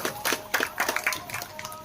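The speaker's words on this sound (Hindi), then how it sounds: "एक बार ऊपर से ताली बजा दो मेरी कष्ट करके" An audience claps hands during a devotional katha, a dense, steady patter of many hands at a moderate distance, with a faint held tone underneath.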